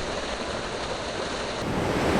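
A rushing creek beside a hot spring with three pools, a steady broadband wash of flowing water mixed with some wind noise, continuous and fairly close.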